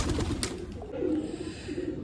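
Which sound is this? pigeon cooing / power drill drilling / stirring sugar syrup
pigeon cooing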